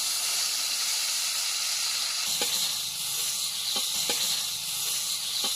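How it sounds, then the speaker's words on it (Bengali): Fish frying in hot oil gives a steady, dense sizzle and hiss throughout, with a few brief sharp pops and crackles rising out of it near the end. "বেসন গুঁড়াটাকে কিছুক্ষণের জন্য পাশে রেখে এখন আমরা মাছটাকে ভেজে নিচ্ছি।"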